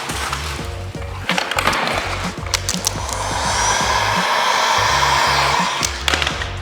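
A heat gun blows hot air onto knifeless tape material in a steady loud rushing hiss, close to the microphone, with intermittent low rattling thumps underneath.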